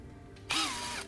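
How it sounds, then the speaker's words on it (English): A cordless drill running on a revived battery whirs up sharply for about half a second, a close, loud motor whine rising in pitch before cutting off. "And just like that, the drill springs to life."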